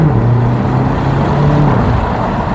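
A loud BMW X6 M (F86) SUV engine revs up close, a deep throaty exhaust drone holding steady and then dipping slightly, with no talking.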